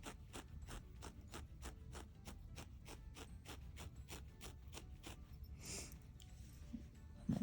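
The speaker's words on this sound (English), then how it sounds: "I get way in there with the felting needle on this one so I can hear it attaching" A felting needle jabs repeatedly into wool fibers on a needle-felted bunny, joining head to body: a regular rhythm of soft crunchy pokes, close and quiet, about two or three per second.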